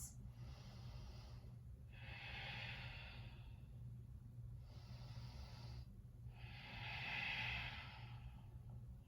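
Slow deep breaths taken during a vinyasa yoga flow, four long airy inhales and exhales in a steady rhythm, close and fairly soft over a low background hum, with no talking.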